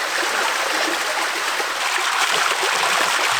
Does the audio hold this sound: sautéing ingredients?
no